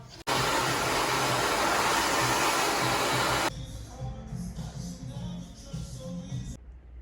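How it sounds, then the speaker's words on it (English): Hair dryer blowing hair, a loud steady roaring whoosh that starts abruptly and runs for about three seconds before cutting off, followed by quieter room noise and handling. "I'm just going to blow dry her hair now."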